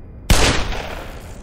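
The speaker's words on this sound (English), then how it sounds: "What do you think happens if I just shoot a turret straight up with the Magnum?" A single loud Magnum revolver shot fired at a turret in the shooter game Black Mesa, a sharp, sudden crack after a brief quiet, followed by a ringing, slowly decaying tail and no talking.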